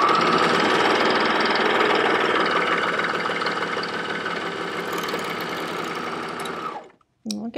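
An air-thread serger sewing machine runs at speed in a continuous loud, even mechanical whir for about seven seconds, then stops abruptly, followed by a brief quiet click.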